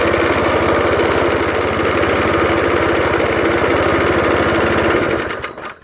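An old Suffolk Punch 30s lawn mower engine, first started after ten years, runs loud and close with a steady rapid chugging throb, then its revs drop away near the end.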